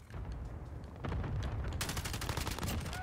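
Gunfire in Call of Duty Modern Warfare, a dense loud burst of rapid automatic shots that grows heavier and sharper partway through, continuous crackling volleys with no talking.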